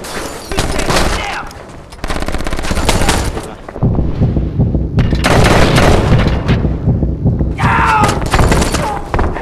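Rapid bursts of automatic gunfire and heavy booms in a video game shootout, loud and close, coming in dense volleys with short lulls between them.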